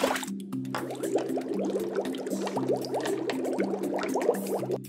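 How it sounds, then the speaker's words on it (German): Water runs and splashes while vegetables are washed, a busy trickling and dripping texture with rapid wet spatters over a repeating toy-like tune in the background. "Zuerst müssen wir unser Gemüse waschen."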